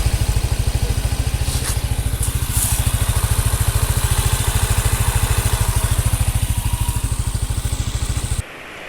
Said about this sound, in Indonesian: Ketika nyampe kantor tadi juga suara mesinnya masih halus.